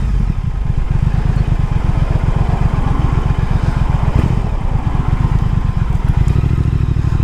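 A 2019 Triumph Speed Twin rides in first gear, its twin engine thumping close and steady with a rapid, even pulse under a constant rumble of wind and road noise.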